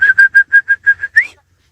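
A farmer's whistle signalling oxen to halt during ploughing: a rapid string of about eight short, loud, clear whistle bursts ending in one rising note, close and alone.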